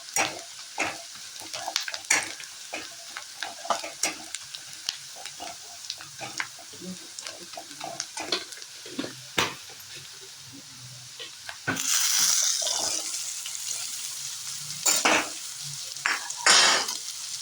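Onion fried with masala being stirred in a pan for a wild fig (umbar) vegetable dish, with repeated scraping stirs over a steady sizzle that swells louder near the end, close by with no talking.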